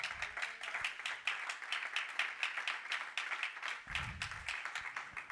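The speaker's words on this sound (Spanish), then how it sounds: "Dale palmas al Rey." A church congregation claps and applauds steadily together, a dense run of hand claps filling the room at moderate distance, with a brief low rumble near the end.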